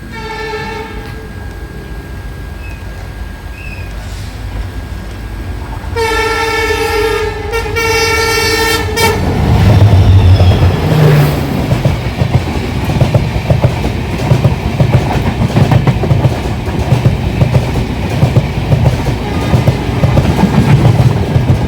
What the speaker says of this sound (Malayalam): ഈ റൂട്ടിലോട്ട് ട്രെയിന് വരുന്ന കാണാൻ തന്നെ ഒരു വല്ലാതൊരു വൈബ്